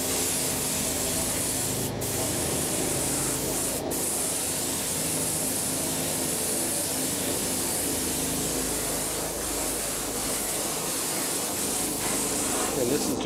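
A clear sealing coat hisses from a spray can onto a model B25 aircraft, a loud steady spray running almost unbroken for several seconds, close to the microphone.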